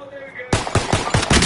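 Rapid gunfire erupts in the Warzone video game after a quiet moment, a string of sharp, loud, closely spaced shots in an uneven burst rhythm.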